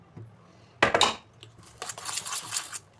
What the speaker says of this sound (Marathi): आता बॅटर छानपणे मिक्स करून घेऊया